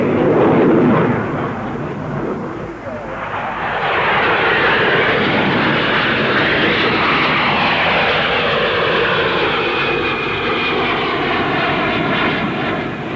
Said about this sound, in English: the P-1127, powered by a vectored-thrust turbofan engine, shows its paces with a neighborly hunter